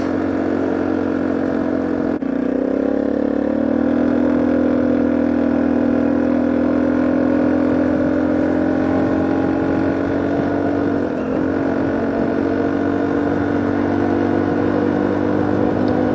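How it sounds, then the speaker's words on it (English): A small engine of a Sym Trackrunner 200 quad bike, cold and not at full throttle, runs steadily and loud, droning at a constant pitch with a slight rise in tone partway through, no voices. "the engine is quite cold, so I'm not gonna go full throttle yet"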